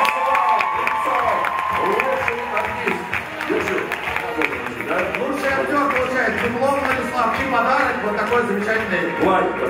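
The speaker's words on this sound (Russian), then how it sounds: "Взрыв аплодисмента!" Loud, dense applause from a theatre crowd at a KVN comedy team performance in Tula, sustained throughout with cheering and voices mixed in.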